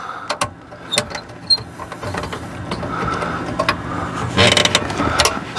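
A ratchet tightens a fastener while a deck-mount power converter is being replaced. A close run of quick mechanical ratchet clicks starts sparse, then becomes a denser, louder burst of clicking and rattling near the end.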